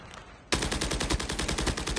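Rapid Holger rifle fire in a first-person shooter game, a steady, loud automatic burst of evenly spaced shots that starts abruptly after a brief quieter moment and continues without pause.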